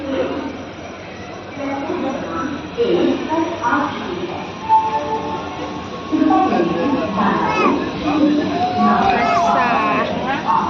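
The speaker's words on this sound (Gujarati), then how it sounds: "હવે હાલવાય માંડી અમારી ટ્રેન." A passenger train on the Bhavnagar–Jetalsar route rumbles and clanks as it gets moving, with squeals and metallic creaks while people talk nearby.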